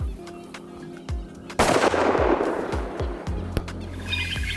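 Rifle shots fired while hunting in Africa: several sharp cracks spread over a few seconds, one especially loud burst in the middle, with faint background noise between reports.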